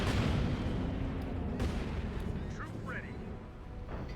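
Heavy gunfire and blasts from the World War II strategy game Company of Heroes 2, a loud rumbling boom at the start fading into dense low battle noise with faint chirps, under a commentator's talk.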